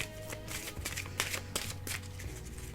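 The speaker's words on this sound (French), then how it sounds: "Alors, je vais les mélanger un petit peu." Oracle cards being shuffled, a continuous close papery riffle with soft rhythmic slaps over a faint background hum.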